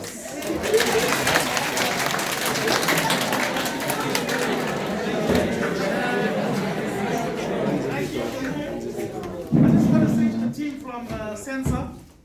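Students and staff applauding SANSA visitors at a school science week event, dense clapping mixed with loud crowd chatter and cheering, swelling near the end before fading out.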